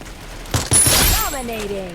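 A short burst of rapid gunshots in the video game Free Fire, followed by a whooshing swoop and falling electronic tones, loud and close.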